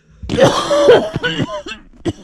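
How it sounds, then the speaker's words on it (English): Several harsh coughs and throat-clearing sounds from nearby people inside a van, irregular and overlapping, with short gaps between bursts. "people in the van are coughing"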